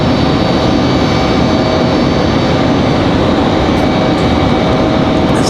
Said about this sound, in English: So we got that A321 up next, ready for departure.